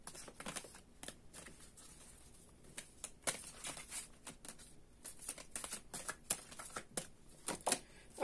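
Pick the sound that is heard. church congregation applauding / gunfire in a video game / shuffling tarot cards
shuffling tarot cards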